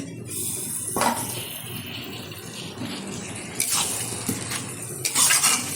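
Fried potatoes are added to a pot of mutton curry, with a few clinks and scrapes of a utensil against the pot over a steady background of soft cooking noise.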